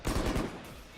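Burst of rapid gunfire in the tactical shooter Valorant during a pro match, a dense rattling volley that fades out within a second.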